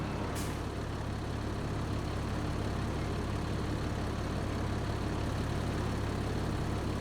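Valtra tractor engine in Farming Simulator 25, a steady low diesel drone that runs unchanged and fairly loud, with a brief hiss near the start.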